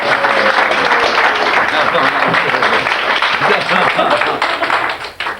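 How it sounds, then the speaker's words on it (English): A studio audience at a radio show breaks into a sustained round of applause, dense steady clapping that fills the room and tapers off near the end. "let's have a nice round of applause, ladies and gentlemen"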